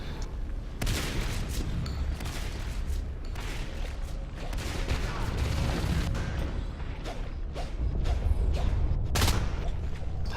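Artillery shells from Natural Selection 2 landing in a steady barrage of booms and sharp cracks, dense and continuous over a rumbling game background, with some louder hits toward the end and no speech.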